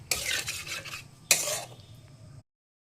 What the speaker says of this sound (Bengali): জলটা দিয়ে আবার এরকমভাবেই কষিয়ে নেব।